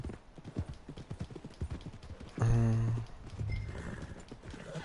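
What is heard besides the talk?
horse hooves clip-clopping and whinnying in a video game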